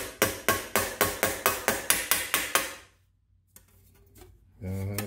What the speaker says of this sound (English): We'll use that and a ball peen hammer and hammer out these little problem points.